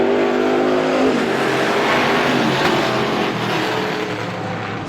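Stock cars roar around Star Speedway in a heat race just after the green flag, a dense, loud wall of engines revving hard and holding steady, with no voices over the pack.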